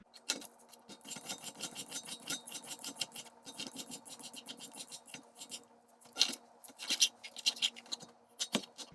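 An English cucumber is peeled with quick, repeated scraping strokes, a steady rhythmic rasp that speeds up in places, close and alone with no voices.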